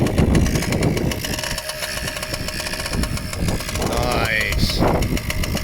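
A small fake Yamaha PW80 pit bike engine idles steadily as it warms up after a kick start, a continuous low putter running throughout with brief voices talking over it.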